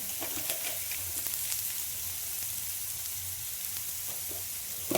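Cumin and coriander powder fry in a pan for a fish curry, a soft steady sizzle and hiss running close and even for the whole stretch, with faint stirring scrapes and no talking.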